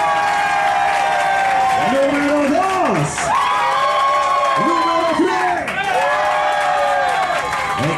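A crowd aboard the Triton yacht near San Andrés island cheers and claps loudly, with sustained whoops and shouted voices rising and falling over continuous applause, and a voice calling out briefly.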